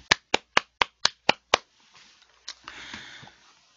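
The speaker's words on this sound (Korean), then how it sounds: "이분에게 오늘 따뜻한 박수 보내드립니다" Seven sharp, evenly spaced claps ring out loud and alone, a short rhythmic burst of warm applause at a Korean literature talk show, then fading into faint rustling and a murmur of room noise.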